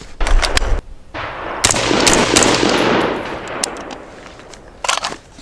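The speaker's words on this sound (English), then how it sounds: "And we go right back into shooting." Rifle fire at an outdoor shooting range: loud, close shots, a sharp crack near the start, then a sustained burst of rapid firing with echo, and more shots near the end.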